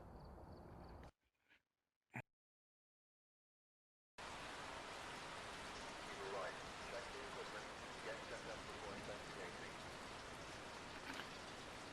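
Steady rain drums on a truck in the Phasmophobia video game, heard from inside the cab; after a brief burst and a few seconds of silence, the hiss returns loud and continuous to the end.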